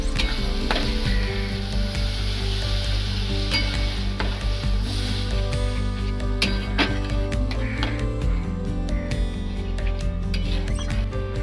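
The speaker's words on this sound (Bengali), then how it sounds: "তো অল্প করে জল দেবো।" A small splash of water hits a hot pan while making Bengali egg curry (dim kaliya), setting off a loud, steady sizzle with scattered crackles and faint utensil clicks.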